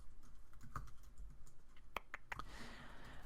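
Code is typed on a computer keyboard in a quick run of close, crisp key clicks with a few sharper taps, steady and alone with no talking.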